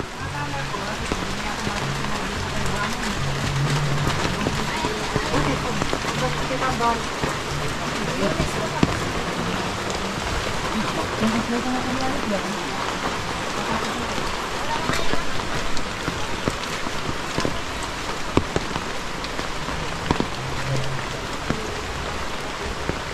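Heavy rain pours steadily at a building site, a dense, unbroken hiss and patter throughout while people talk underneath.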